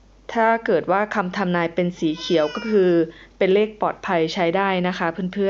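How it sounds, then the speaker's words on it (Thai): A house cat meows once or twice, mixed in and partly masked by a person talking steadily and close up. "ขอโทษสำหรับเสียงแมวนะคะ"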